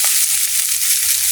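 Garlic and five-spice seeds sizzle in hot oil in a wok, a steady bright frying hiss with faint stirring knocks underneath, continuous and close throughout.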